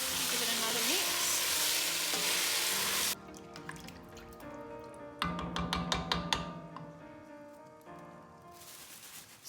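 Food is stirred in a frying pan, first under a loud sizzle that cuts off, then as clinking scrapes and taps of the utensil against the pan, ringing tones fading near the end.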